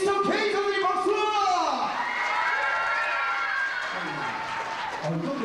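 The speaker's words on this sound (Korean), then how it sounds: "여러분들의 큰 박수로 모시도록 하겠습니다" A crowd welcomes magician Mr. K to the stage with applause mixed with loud, high-pitched cheers and shouts, the voices rising and falling over a continuous wash of clapping.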